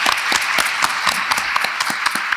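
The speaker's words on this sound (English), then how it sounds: "Let's pause for a moment and give a round of applause for Dr." Loud, close applause from a conference audience after a mental health presentation, individual claps distinct and rhythmic within a full round of clapping that runs throughout the short stretch.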